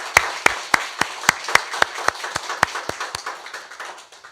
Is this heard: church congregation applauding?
yes